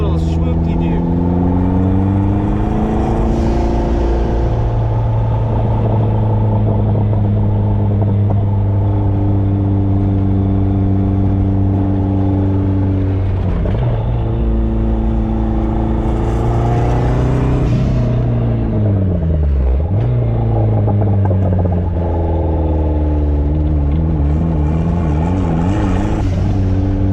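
A Mazda Miata with a newly built, forged 1.6L compound-turbo engine is driven on a canyon road during break-in, its engine droning steadily and close with repeated rises and dips in revs as it climbs and eases off.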